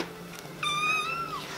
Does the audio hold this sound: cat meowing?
yes